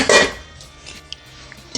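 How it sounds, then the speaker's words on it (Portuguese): A large metal cooking pot is pulled out in a home kitchen with one loud clattering bang, followed by a few faint metallic clinks, close by with no talk. "Deixa eu pegar aqui uma panela. Pegar uma panelona."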